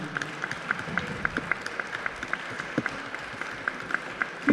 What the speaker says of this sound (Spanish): vamos a darle un aplauso al maestro Ríos.